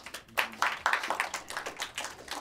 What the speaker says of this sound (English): Whoa, applause break.